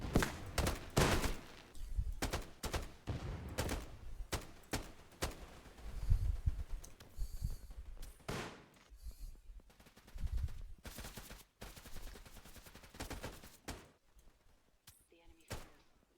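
Rapid gunfire bursts and single shots from a Roblox video game round in which a bomb is being defused, cracking repeatedly over about sixteen seconds with brief pauses, with a voice talking at times.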